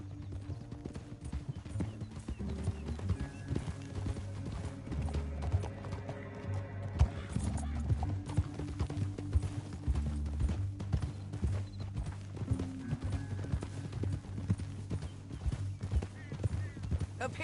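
Several horses gallop through a Red Dead Redemption 2 canyon, with steady clip-clopping hoofbeats and an occasional whinny sitting under a dense, continuous bed of game music and ambience.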